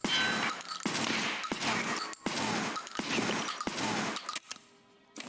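Rapid bursts of gunfire from a shooting video game, the player aiming for headshots; several clustered volleys crack loudly in sequence with brief gaps, ending in a quieter tail.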